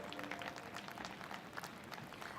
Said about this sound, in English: Let us have a big round of applause for all the proud PhD awardees.